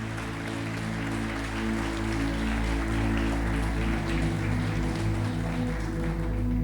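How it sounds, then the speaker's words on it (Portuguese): A church congregation claps loudly and steadily, sustained applause filling the room over a low droning organ or keyboard chord that holds underneath throughout. "Aplauda bem forte a Jesus."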